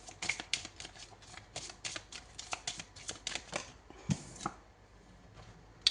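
Major arcana tarot cards being handled and shuffled, a run of close, crisp riffling snaps and flicks in irregular bursts with brief pauses, loud and near, no talking.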